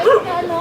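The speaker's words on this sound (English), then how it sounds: "Doggy guarding the small shop." A dog outside a small shop on a Manila evening gives a single short bark or yip, loud and near, followed by a brief trailing whine against the street ambience.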